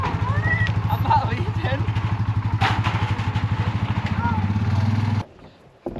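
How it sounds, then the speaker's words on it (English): A four-wheeler ATV engine runs with a steady, rapid idling chug that holds close and loud for about five seconds, then cuts off abruptly. Voices talk faintly over it. "we're going to start the four-wheeler"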